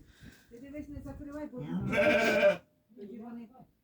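A sheep bleats loudly once in the middle, wavering and close, while a person talks before and after it.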